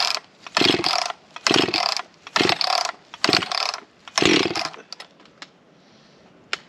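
Chainsaw being pull-started: five rapid ratcheting rasps of the starter cord in quick succession, close and fairly loud, followed by a few faint clicks and quiet without the engine catching.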